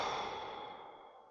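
A single long, steady exhale pushed out through the mouth during a calm meditation, breathy and close, fading gradually over a second or so with no talk.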